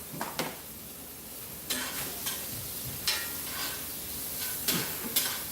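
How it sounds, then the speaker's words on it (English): Chopped vegetables sauté in a heated cast iron skillet, giving a soft continuous sizzle broken by several spaced utensil scrapes against the pan. It is fairly quiet and close, and nobody speaks. "I'm gonna go ahead and saute this for about 3 to 5 minutes"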